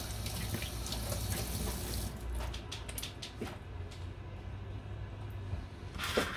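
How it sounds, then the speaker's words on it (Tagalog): Tap water runs steadily into a sink while hands are washed under it, a continuous hiss with brief splashy bursts, close and moderately loud, with no talking. "Maghuhugas tayo ng kamay."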